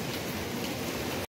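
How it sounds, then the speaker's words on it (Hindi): Steady hiss of rain falling outdoors, a dense even wash of drops close by that cuts off abruptly at the end. "तो चले मैं आपको बाहर बारिश दिखाती हूँ।"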